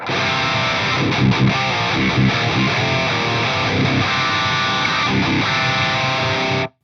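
Heavily distorted electric guitar through an Axe-Fx III Atomica High amp model plays dense, saturated chords continuously and loudly, then cuts off abruptly.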